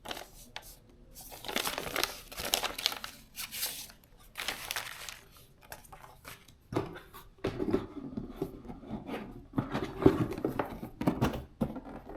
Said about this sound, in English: time to open the envelope